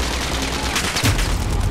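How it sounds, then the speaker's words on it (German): Dense, loud gunfire crackles in Call of Duty Modern Warfare during a team deathmatch crossfire, overlapping bursts and booms in a continuous close volley with no pause. "Voll ins Kreuzfeuer geraten."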